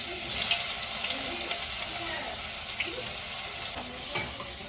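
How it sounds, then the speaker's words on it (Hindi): Mustard seeds (rai) and a little cumin frying in hot oil, a steady crackling sizzle with faint stirring clatter and occasional pops running throughout. "सो ऑयल गरम हो गया है और इसके अंदर मैंने सरसों डाल दिया है, राई, और मैं हल्का सा जीरा डाल रही हूँ"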